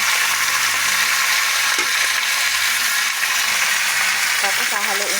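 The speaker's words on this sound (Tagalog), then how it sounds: "ginisa ko muna yung bawang, sunod sibuyas" Garlic and then onion sautéing in a pan for chicken adobo, a steady loud sizzle and frying hiss with a few faint clinks, no talk.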